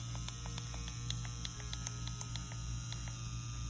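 An XNET Elite wireless tattoo machine running, a faint steady electric hum with an even, rapid pulsing buzz, close and consistent throughout, with no voices.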